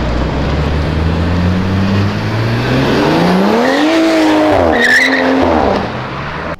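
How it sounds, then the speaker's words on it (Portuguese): A car's tires squeal loudly in a sustained skid on a dirty road, the pitch rising and bending over several seconds against a close engine roar before cutting off. "É impressão minha ou ele deu uma escorregadinha ali?"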